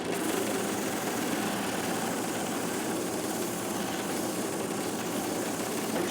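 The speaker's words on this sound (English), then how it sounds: "you trim them on the machine here" A shoe repair trimming machine running on rubber heels to smooth the edges, a steady loud motor drone with a constant hum and vibration, close and unbroken, no talking.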